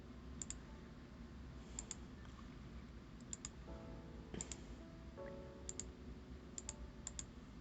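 Faint, sharp computer mouse clicks, mostly in quick doubles, repeat at irregular intervals over a quiet background hum while Live2D software is in use.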